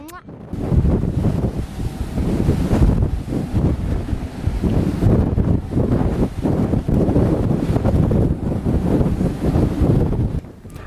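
Strong wind roars across the deck of the Queen Mary 2 in a force 10 gale, with high waves crashing and surging below. The rushing is loud and continuous, buffeting the microphone.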